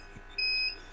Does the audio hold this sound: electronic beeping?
yes